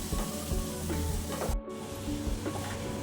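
Onions sizzling steadily in a hot pan with oil for aloo palak, a continuous bright crackle with a few soft stirring knocks and a brief dropout partway through.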